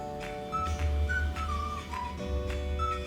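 While moong dal cooks, a pressure cooker gives a single whistle. A thin, wavering tone rises and falls over a low steady hiss and lasts about two seconds, and no one talks over it.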